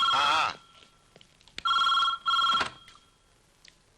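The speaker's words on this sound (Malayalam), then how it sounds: "സാറേ ഫോൺ." A telephone bell rings in short loud trills, three bursts separated by pauses, clear and close in a quiet room.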